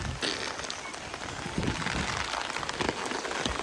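Steady rain falls and patters on surfaces in a continuous dense hiss with scattered drops and crackles, moderately loud and without speech.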